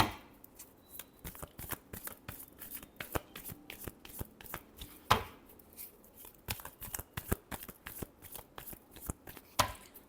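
Tarot cards are shuffled by hand in a rapid series of crisp, papery riffles and taps, close and quiet, with no voices.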